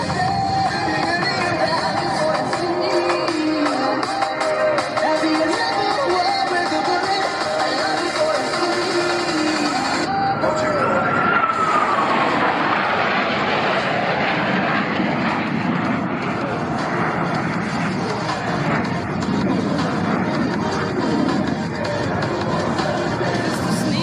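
US Navy Blue Angels jets roar past at the 2023 Columbus Airshow, a loud sustained engine rumble that swells and shifts pitch as they pass. A public-address announcer talks over it.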